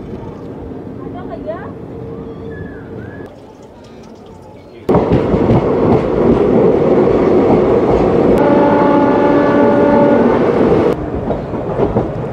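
A passenger train on the Yamuna river bridge near Prayagraj gives a loud, close rumble of rolling wagons that surges in partway through, with drawn-out metallic squeals over it and people talking throughout.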